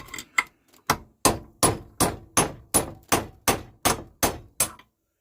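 Hammer driving a steel drift to knock a spindle bearing out of a John Deere 42-inch cutter deck: about a dozen sharp metallic blows, close and evenly spaced, with brief ringing after each.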